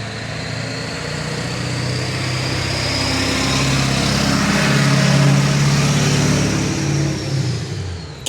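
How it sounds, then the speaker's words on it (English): A Ford Power Stroke diesel engine runs nearby, a steady droning rumble that swells slightly as if revving and then eases off, loud and close with no talking. "I love the sound of a power stroke."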